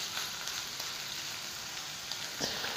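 Mutton mince fries in a pan with a steady, close, dense sizzle and faint crackles, continuous throughout.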